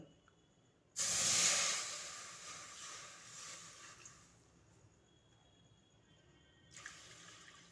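A sudden burst of water, four cups, splashes loudly into a hot wok with a sizzling hiss, then settles into a softer rush before a second, briefer splash near the end.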